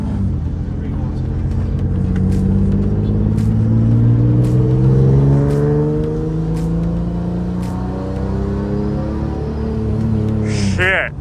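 Turbocharged Nissan 350Z pulling hard through the gears, a loud, close engine roar rising in pitch, dipping at a shift and climbing again, with voices talking over it.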